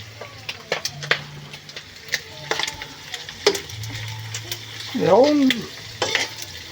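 Food frying and being stirred in a pan, with a steady sizzle under intermittent scraping and clinking strokes, and a brief voice speaking.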